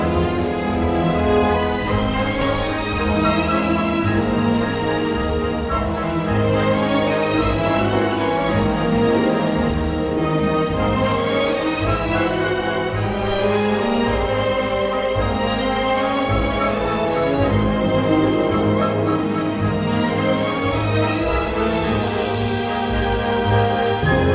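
A full orchestral film score with layered strings and sustained harmonies plays steadily and richly, with no voices, swelling gently throughout.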